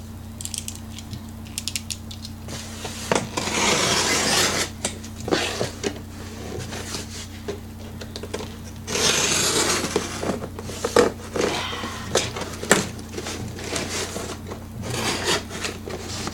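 A box cutter slices open a cardboard package, giving scraping, ratcheting and rasping cuts in bursts of a few seconds over a steady low room hum, close and moderately loud, with no talking.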